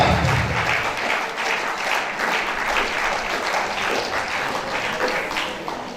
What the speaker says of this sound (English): I think we should do more the speaker a better round of applause